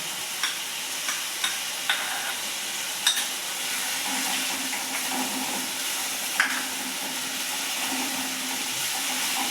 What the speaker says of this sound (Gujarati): થોડી વાર માટે સાતડવા દઈશું